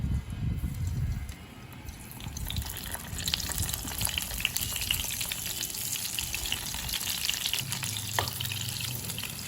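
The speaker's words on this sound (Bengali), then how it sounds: "সেই জন্য গ্যাসের উপরে মিডিয়াম ফ্লেমে একটা ফ্রাই প্যানে পরিমাণ মতো সর্ষের তেল দিয়েছি। এবার ম্যারিনেট করে রাখা বেগুনগুলো আমি দিয়ে দেবো।" Marinated eggplant pieces sizzle and fry in mustard oil in a pan over a medium gas flame, a steady close crackling hiss that continues throughout with small spatters and a low clatter near the start.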